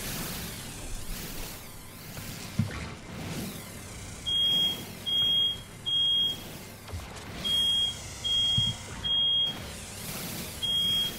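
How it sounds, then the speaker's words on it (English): A smoke-alarm style fire alarm goes off during No Man's Sky gameplay, sounding as a string of loud, high-pitched beeps in short bursts, some paired, over a rumbling game background. "All right, fire alarm's going off."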